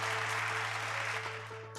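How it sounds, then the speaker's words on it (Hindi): Audience applause at a business presentation, a dense steady clatter of many hands clapping from the back of the hall, sustained throughout and slowly fading, with a low constant hum underneath and no voices. "तो पीछे से भी ताली आ रहे,"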